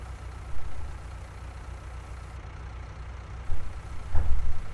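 A small tractor engine in Farming Simulator 2019 runs at a steady low idle throughout, with a louder rumble and a brief mechanical knock near the end.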